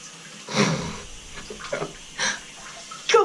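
A Tushy bidet nozzle sprays water in short hissing bursts that start and stop, with some faint breathing between the spurts at close range.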